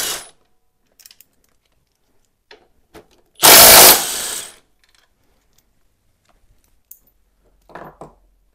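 A power screwdriver spins briefly to remove a screw from the T-brace of a Yamaha FJR 1300 motorcycle, one loud buzzing burst set among quiet clicks and small handling taps.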